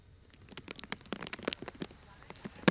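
Rain falling in Barmer's Bagasar area of Rajasthan, near the India-Pakistan border, during Cyclone Biparjoy, pattering in close, uneven bursts of drops that pick up toward the end, with voices mixed in.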